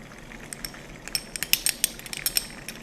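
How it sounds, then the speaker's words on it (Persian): A spoon clinks and scrapes against a pan as sour pomegranate paste is added to melted butter for a Persian chicken dish, producing a series of light, close metallic taps and clicks, growing busier partway through, with no talking. "2 تا 3 قاشق سوپخوری رب انار رو اضافه میکنم."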